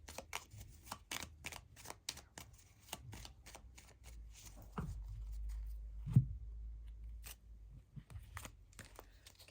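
Tarot cards are shuffled in quick, crisp riffling bursts close up, with short rapid flicks that pause briefly midway and then resume.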